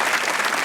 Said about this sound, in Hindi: रोहित शर्मा के लिए भी ताली होनी चाहिए भाई